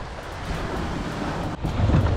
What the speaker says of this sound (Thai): คลื่นแบบโหดจัดเลยนะเป็นลมใต้แล้วก็ลมมันพัดเข้ามาฝั่ง